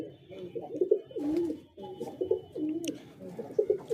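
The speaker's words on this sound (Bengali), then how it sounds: "দেখেন কত কবুতর এবং কত সুন্দর কবুতর" Domestic pigeons in a pigeon house coo over and over, soft rolling calls overlapping close by, with a few faint knocks and rustles between them.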